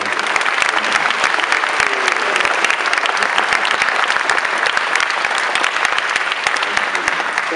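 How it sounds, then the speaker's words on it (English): Dense, loud audience applause for a guest at the Naismith Basketball Hall of Fame, continuous rapid clapping from a large crowd throughout with no talking. "Please join in a great round of applause for our special guest, Mr. Mike."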